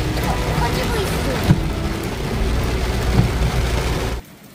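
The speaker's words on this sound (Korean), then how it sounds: "비가 너무 많이 옵니다" Heavy rain pours down steadily at a caravan by the sea in Gyeongju, a loud dense wash that cuts off abruptly near the end.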